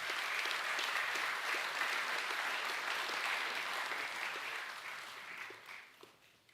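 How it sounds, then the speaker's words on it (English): An audience at a school academic awards evening applauds the Year 11 award winners, a steady wash of clapping from a hall that holds even, then gradually fades toward the close. "Can we please give our Year 11 award winners one more round of applause?"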